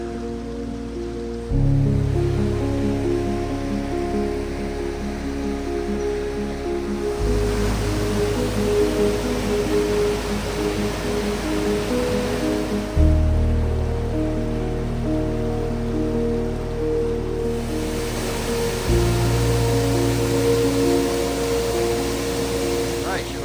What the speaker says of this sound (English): So you can see how much water is coming out of these mines